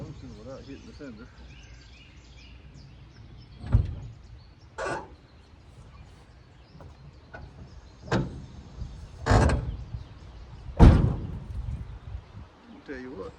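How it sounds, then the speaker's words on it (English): A newly installed door on a Scamp camper trailer being swung and shut, giving several sharp knocks, clunks and latch thuds spaced a second or two apart, close by, with someone talking quietly between them. "let's see if that door functions without hitting the fender"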